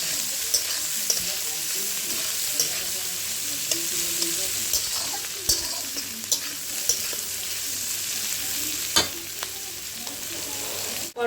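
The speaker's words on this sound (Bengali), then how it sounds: "পেঁয়াজটা দিয়ে অল্প ভাজবো" Chopped onions and bitter gourd fry in a pan with a steady sizzle, broken by occasional scrapes and taps of a stirring utensil; no talking.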